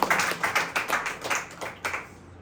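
A church congregation claps in rhythmic bursts, a steady run of hand claps that fades out near the end.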